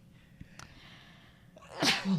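One sudden sneeze bursts out near the end after quiet room tone, loud and close, with no talking around it.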